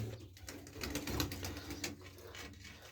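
Pigeons and young squabs in a loft give soft, repeated cooing calls over a steady low murmur, with faint mechanical clicks in the background and no talk.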